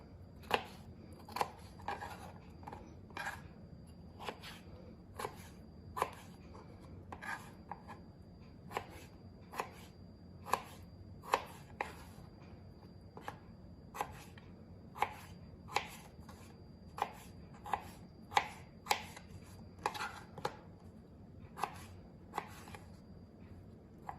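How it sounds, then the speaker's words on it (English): Potatoes being cut into small stew-sized pieces for green chili stew, about thirty sharp knife-on-board chops in an uneven rhythm, close and fairly quiet, with no talk. "Once I get the potatoes cut up, I put them into my pressure cooker."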